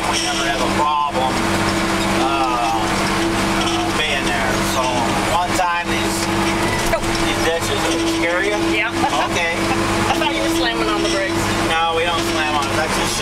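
Tractor engine running steadily while pulling a Krone hay baler through a field, a continuous loud drone with mechanical rattling, heard under a voice talking.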